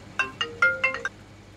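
A phone ringtone plays a short, bright melodic phrase of about six quick electronic notes, clear and close, with no talking over it.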